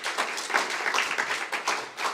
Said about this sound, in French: On applaudit très fort Clément,